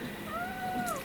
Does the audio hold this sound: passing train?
no